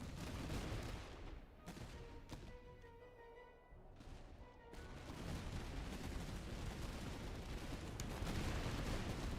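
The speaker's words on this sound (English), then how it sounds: "Maybe we throw some grenades." Grenades explode amid a faint, distant battle in the strategy game Master of Command, with scattered booms and crackling musket-like volleys over a constant low rumble that grows busier toward the end.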